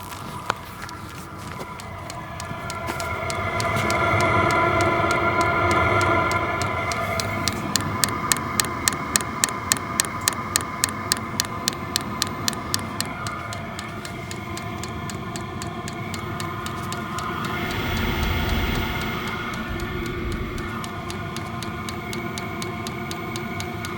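A diesel heater runs during winter camping with a steady mechanical hum and whooshing, while a rapid clicking pulse ticks for several seconds partway through.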